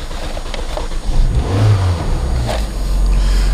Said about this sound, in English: So let's, for example, say we're starting the car up.